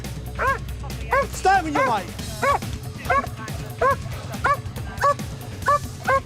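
A police dog barks repeatedly during a chase, loud sharp yelps in an irregular rhythm, some close together, while people shout and talk over the commotion.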